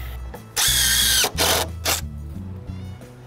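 A power drill drives a screw into a wooden deck railing in short bursts: one long high whine, then two briefer pulses, close and loud, with no speech.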